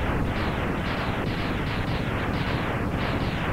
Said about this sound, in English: Flame Mammoth has been obliterated.